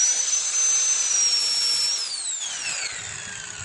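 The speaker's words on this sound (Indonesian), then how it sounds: "Ini kita gerinda dulu untuk membuat cowakannya." Angle grinder cutting a notch into a broken radiator pipe, a steady high-pitched whine that drops in pitch as the disc bites and slows, loud and close, no talk.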